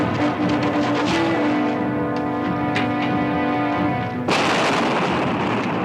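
Gunfire and a grenade blast from an action film firefight at a storage shed and bunker, dense cracking shots over a sustained rumble, then a sudden loud burst of explosive noise near the end.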